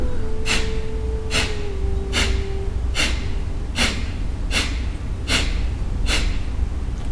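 Kapalabhati yoga breathing: eight sharp, forceful nasal exhalations in a steady rhythm about once every 0.8 seconds, close and clear over a low background hum.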